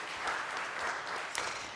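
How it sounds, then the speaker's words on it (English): An audience at a business conference in London claps steadily in a dense, sustained round of applause that stays at an even level throughout. "Can I just get another round of applause for surviving that this year?"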